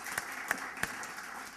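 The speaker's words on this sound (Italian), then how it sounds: "Dunque un applauso anche al server e al fonico." Applause at a music show taping, a thin, fairly faint patter of clapping from a small audience with a few sharper individual claps standing out.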